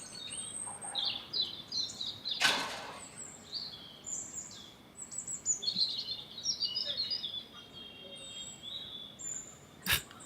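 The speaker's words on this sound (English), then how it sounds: "I'm so convinced those birds are talking to me." Birds chirp and twitter outdoors in bright, quick bursts of high calls that come and go close by, broken by a couple of sharp noisy bursts, with no talking.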